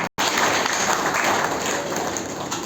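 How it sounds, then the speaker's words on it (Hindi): An audience breaks into dense, steady applause welcoming a speaker, with many hands clapping close and loud for a couple of seconds without a break. "आप सभी तालियों से स्वागत करें"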